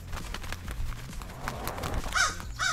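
Crows cawing in the skateboarding video game SkateBIRD, a few harsh calls standing out near the end over a backdrop of clattering game sounds and background noise.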